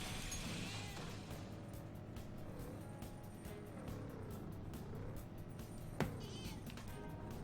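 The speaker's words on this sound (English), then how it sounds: "So, that was a cat noise." A cat meows in the video game Persona 5 Royal, faint, drawn-out mewing cries over a quiet engine-like hum.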